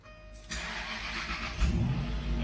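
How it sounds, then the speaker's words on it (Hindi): Jaguar XK with a battery that is not charging, its engine cranking and catching after a brief click, then settling into a loud, close rumbling idle with a small rev. "तो गाड़ी स्टार्ट कर लेते हैं"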